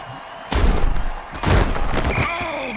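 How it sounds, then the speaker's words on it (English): A vicious tackle in a football video game lands as heavy thuds and impact booms, with a loud crowd roar swelling around the collisions. "Oh, that's a vicious hit, and the crowd loves it."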